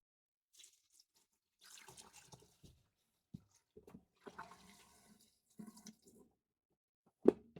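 Water flushes through a camper's shower drain into the black tank in short, separate gurgling bursts with quiet gaps between them. The last surge near the end is the loudest.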